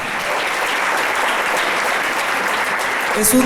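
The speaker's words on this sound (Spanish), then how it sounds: "Le damos un aplauso a Dios por eso" Congregation applauding during the inauguration of a church hall, a steady dense wash of clapping from many hands that holds evenly throughout, with some voices mixed faintly in the crowd.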